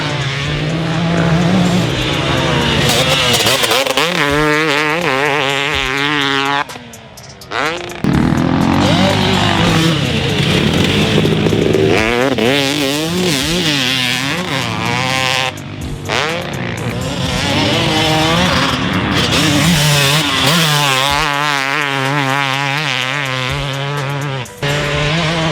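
A KTM 300 SX dirt bike engine revs steadily on a racetrack, its pitch rising and falling continuously through the clip, loud and close, with a few brief dips.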